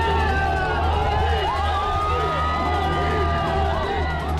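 A dense roadside crowd around the Prime Minister's convoy keeps up a continuous murmur of shouts and cheers, with scattered whoops rising above it. The engine rumble of passing vehicles runs low underneath throughout.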